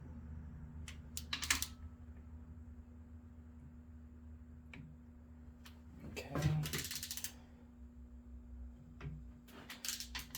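Clicks and ratcheting from a torque wrench tightening bolts during an LS engine swap, a few sharp metallic clicks spaced apart over a low steady hum, with one longer ratcheting burst midway.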